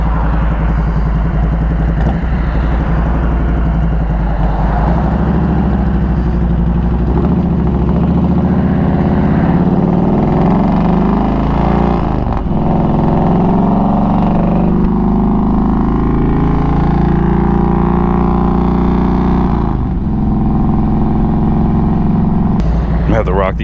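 A Harley-Davidson Road King motorcycle fitted with ape hanger handlebars runs close and loud, its deep engine rumble holding steady with gentle rises and falls in pitch.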